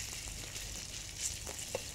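Ingredients sizzling as they are stir-fried in a pan over low heat for a Thai pork-filled sago dish, with a continuous close hiss and a few faint stirring clicks.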